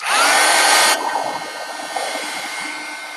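Hair dryer blowing loud and close to dry wet paint for about a second, then cutting out, leaving a fainter rustling background.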